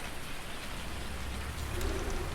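Steady rain in Farming Simulator 19, a dense even hiss of drops falling on surfaces, constant and fairly loud throughout, with a faint low rumble near the end.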